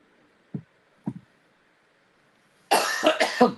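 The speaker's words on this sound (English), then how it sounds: "this call and this cough does not leave me" Two short coughs a half-second apart, then a burst of louder, harsher coughing with throat rasp, close to the listener.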